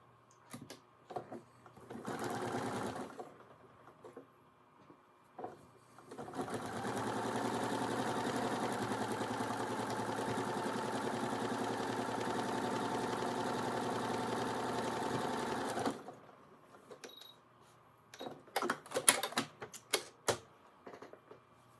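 Sewing machine stitching a quilt block, with a short burst of rapid mechanical chatter, then a long, steady run of stitching, followed by scattered clicks and handling noises, close and clear with no talking.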